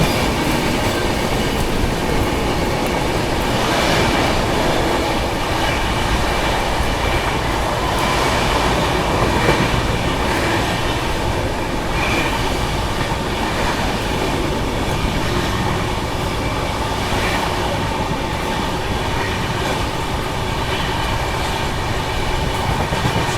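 Bihar Sampark Kranti superfast express train running at speed, a steady loud roar of wheels and rail with rhythmic clatter and rushing wind continuing throughout, no voices.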